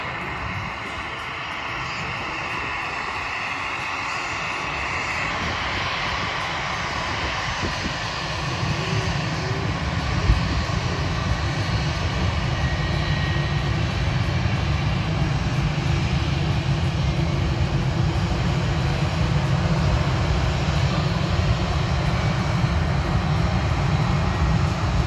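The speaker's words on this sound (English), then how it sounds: "Next up to taxi past is an EasyJet Airbus" An EasyJet Airbus A319-100 taxis at Manchester Airport, its engines giving a steady, loud broadband roar with a low rumble that swells slightly partway through and holds as the jet passes close by.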